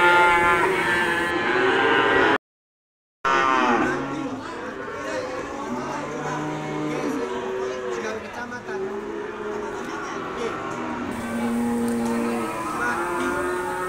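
Cattle moo repeatedly at a busy livestock market in Gunungkidul, with several drawn-out calls rising over constant crowd chatter and engine noise.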